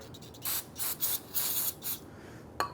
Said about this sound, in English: I'm going to spray a little bit of solvent around the seam here.